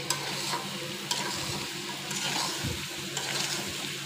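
Taro pieces coated in spice paste fry in a pan with a steady broad hiss, while a few soft stirring scrapes and dull knocks sound close by and nobody speaks.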